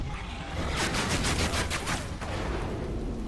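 Shotgun blasts in the Evolve video game, a quick series of loud, close shots in rapid rhythm over a dense battle din, roughly half a dozen reports in about a second and a half.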